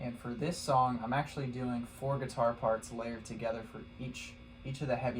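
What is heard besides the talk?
None of the usual background noises is heard.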